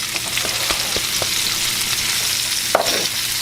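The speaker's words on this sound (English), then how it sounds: "And just go ahead and give these a good saute. Just turn them around in that oil and butter mixture." Onions and garlic sauté in an oil and butter mixture in a skillet, giving a steady close sizzle broken by several soft scrapes and clicks as they are stirred around.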